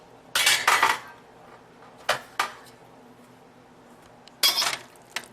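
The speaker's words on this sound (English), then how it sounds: "Just kind of move it around, stir it, coat it, and get all the flavors on here" Pasta and green beans get stirred in a metal pan, heard as a few distinct scraping clanks of a utensil against the pan in short bursts separated by quiet gaps, with a faint background hum.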